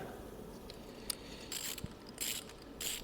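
A ratchet clicks in short bursts while tightening engine bolts on a Toyota Starlet turbo conversion build, close and fairly quiet with scattered sharp clicks and no talking.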